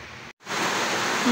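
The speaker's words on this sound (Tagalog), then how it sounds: "Lumakas ang ulan." Steady dense hiss of heavy rainfall pours down, briefly cut by a short gap before resuming loud and continuous.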